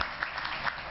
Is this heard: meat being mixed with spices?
no